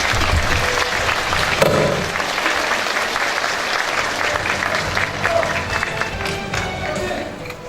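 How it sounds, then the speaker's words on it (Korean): Audience applause fills a governor's inauguration ceremony as Song Ha-jin, Governor of Jeollabuk-do, comes up to take his oath of office: steady, dense clapping from a large crowd, loud and sustained throughout. "올라오실 때 여러분 큰 박수로 환영해 주시기 바랍니다."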